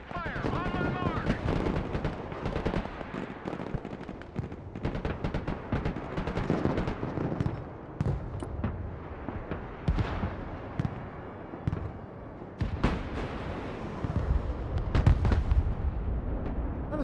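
Artillery and explosions pound continuously in a battlefield video game, dense rapid booms and crackling blasts with a voice talking underneath.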